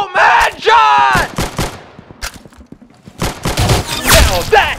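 Gunfire in the video game Roblox sounds as several loud, sharp bursts spread across the stretch, with a voice shouting and talking between and over the shots.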